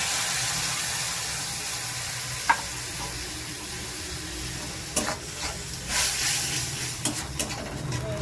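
A spice paste of ground coriander, cumin, red and Kashmiri chili powder and turmeric mixed in water fries in a pan for fish roe fritters. It gives a continuous hissing sizzle, with occasional stirring scrapes and clinks nearby.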